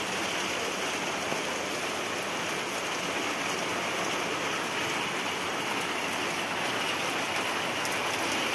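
Steady, dense rain falls outdoors onto a garden with chilli plants. The even, continuous hiss holds at the same loudness throughout, with no voices.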